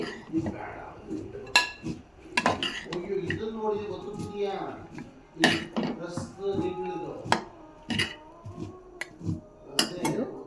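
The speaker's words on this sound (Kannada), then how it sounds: "ಈಗ ಸರ್ವಿಂಗ್ ಬೌಲ್ಗೆ ಹಾಕ್ಕೊಳ್ತೇನೆ." Ghee rice topped with fried cashews is spooned into a serving bowl, giving scattered metallic clinks and scrapes of a spoon against the dishes while someone talks over them.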